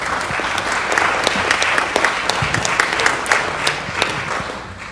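Applause at a city council meeting after a National Coin Week proclamation, a dense, continuous clapping of a crowd filling the whole stretch at even loudness.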